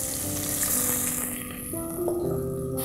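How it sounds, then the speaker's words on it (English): Chopped onion dropped into hot oil with roasted spices and bay leaf for Rajasthani laal maas gives a loud, steady sizzle, a bright hiss that holds throughout with a faint stirring texture. "I'm going to add the chopped onion."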